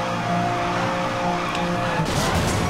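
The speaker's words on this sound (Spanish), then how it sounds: "Hacer derrape." Car drifting in Need for Speed Most Wanted 2012, a steady engine roar followed by tire squeal and skidding hiss near the end, loud and close.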